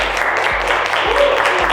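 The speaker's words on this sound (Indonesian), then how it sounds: "Tepuk tangan untuk kelompok 1." An audience claps for a student group in a university class presentation, dense, steady applause filling the room from start to finish with a few faint voices mixed in.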